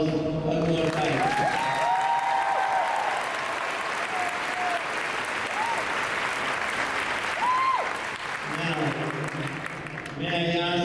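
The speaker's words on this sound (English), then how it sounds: "One last round of applause, one more time." Audience applause fills a high school graduation ceremony hall, a steady, dense wash of clapping lasting about ten seconds, with voices speaking over its start and again as it fades.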